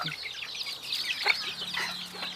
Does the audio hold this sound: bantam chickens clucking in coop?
yes